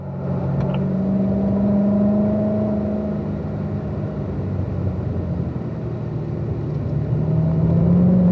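A race car's engine drones loudly and steadily from inside the cockpit as the driver drops to third gear on the approach to a track turn. The rumble shifts pitch slightly and carries no speech.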